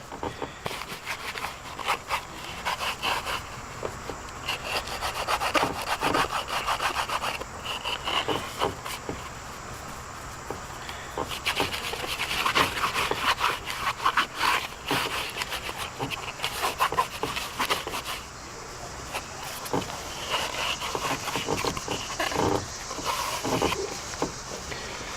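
Soft, steady rubbing and scuffing of a cloth wiping the headlight lens on a 2000 Toyota Corolla, close by and continuous with small knocks and handling noises scattered throughout, no talking.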